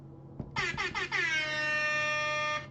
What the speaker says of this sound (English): You thought I forgot about my air horn.